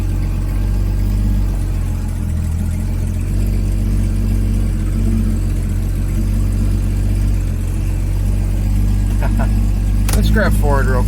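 Eagle SX4 car engine droning steadily while driving in the dark, a continuous low hum throughout with a brief rise near the end; a voice speaks over it.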